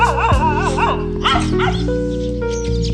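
Dogs bark and yip in short bursts near a home in Gujarat, the calls loud and close with some overlapping whimpers and a steady hum underneath.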